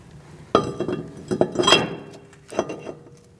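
Metallic clanks and scrapes of a brake rotor being fitted onto the wheel hub of a 2002-2006 Toyota Camry, a few close, sharp clinks with brief rattling between, no talking.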